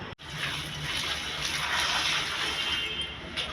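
Water pours steadily over fresh turmeric roots to rinse off the soil, a continuous splashing gush close by after a brief opening thump.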